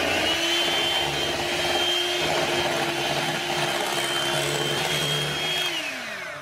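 Electric mixer beaters whir through custard cake batter with warmed milk and melted butter, a steady close motor drone with a faint pitched whine, holding even and then easing off as it winds down at the end.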